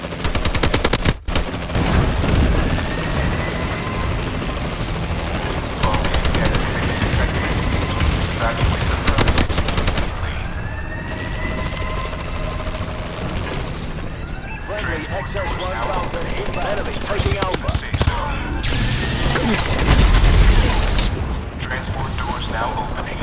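Gunfire and explosions from a friendly bombing run in the video game Call of Duty Advanced Warfare, a loud continuous battle din of rattling shots, booms and whooshing passes, with voices in the mix.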